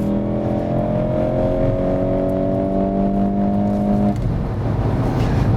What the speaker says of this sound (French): C'est vrai que ça accélère bien.